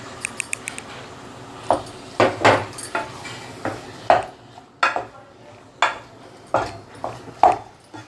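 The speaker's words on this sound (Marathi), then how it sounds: "आता याच्यात घालणार आहे मी हा खिमा" Chicken keema, minced chicken, goes into masala in a pan for chicken keema batata, with a string of clinks and scrapes of a spoon against metal. The knocks come close and sharp at an uneven pace.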